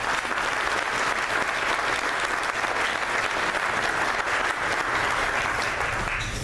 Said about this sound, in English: Please join me in a round of applause for their support.